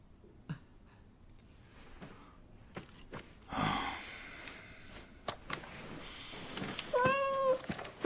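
A house cat meows several times toward the end, clear and fairly close, after quieter indoor rustling and handling noises in a home.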